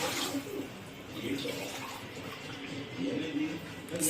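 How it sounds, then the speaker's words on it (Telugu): A faint, steady rush of water being poured into a cooking pot, continuous and quiet, with a slight splashing texture. "మొత్తం 6 కప్స్ ఆఫ్ వాటర్ వేసుకున్నామండి"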